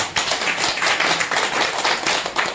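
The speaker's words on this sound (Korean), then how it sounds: "동의하시면 박수" Audience at a lecture clapping together, a dense continuous run of hand claps with a slightly pulsing rhythm, fairly close and loud, no voices over it.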